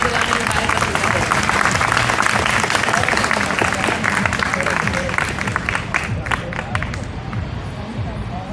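Sustained clapping from a crowd at a Republic Day program, many hands beating in a thick, continuous patter with murmuring voices and faint cheers, thinning slightly toward the end.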